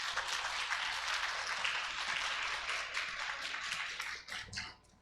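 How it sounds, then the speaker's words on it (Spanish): A church congregation claps together during a Spanish-language service, a dense, sustained wash of applause that holds steady and then thins out and fades in the final second. "Sí, aplauda al Señor."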